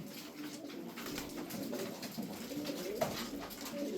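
Young game pigeons coo softly in a loft, low throaty calls repeating under a steady background hum, fairly quiet and with no talking.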